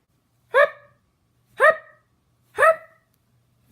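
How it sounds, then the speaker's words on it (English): Three separate sharp, voiced hiccup-like yelps about a second apart, each a short bright burst with a quick tail, heard alone against a quiet background. "He's been hiccuping for 3 hours now."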